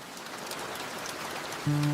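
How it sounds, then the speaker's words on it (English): Rain falling in a steady, even patter of dense drops close by, with a brief low tone entering near the end. "Rain is falling."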